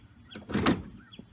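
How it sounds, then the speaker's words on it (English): Aero latches on the nose of a Superlite SL-C car are undone, making a few short mechanical clicks and one louder clunk in the middle, close and fairly quiet. "First, undo the aero latches."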